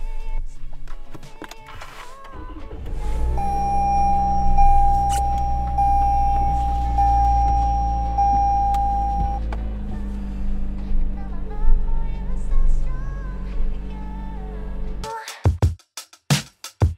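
Car setting off in snow, engine starting with a low rumble that settles into a steady drone with a faint whine, ending in a few sharp knocks and clunks.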